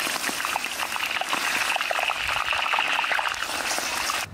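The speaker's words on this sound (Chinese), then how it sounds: "我们把那个油炼得差不多了，现在把那个葱放下去，再熬一会儿就差不多了哈" Chopped scallions sizzle in hot lard rendered from pork fat in a wok, giving a steady, loud, close frying hiss with crackling pops that runs throughout without a break. No one speaks.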